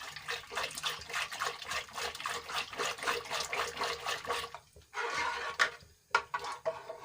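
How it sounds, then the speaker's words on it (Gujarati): Boiled lentils are lifted and strained with a slotted skimmer, giving soft, continuous wet splashing and trickling that is quiet and close, then a short pause and a few scattered drips and splashes. "તેને આપણે ઝારણીની મદદથી ઝેરી લઈએ."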